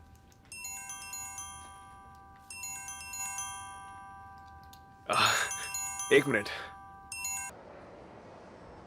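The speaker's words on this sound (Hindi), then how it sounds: "टीचर, मुझे लगता है आपका फोन बज रहा है।" A phone's ringtone chimes in repeated bright electronic bursts with short gaps, fairly close and clear. A voice speaks briefly over one pause before the ringing resumes.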